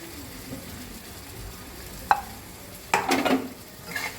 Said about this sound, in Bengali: পেঁয়াজের যে পেস্টটা বানিয়েছিলাম ওই পেস্টটা দিয়ে দিলাম, দিয়ে জল দিলাম